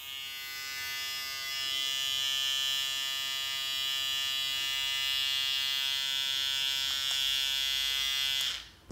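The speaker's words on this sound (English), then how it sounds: "So this is gonna be the Rebel trimmer." A StyleCraft Rebel electric hair trimmer hums steadily with a high, thin buzz for several seconds before switching off abruptly.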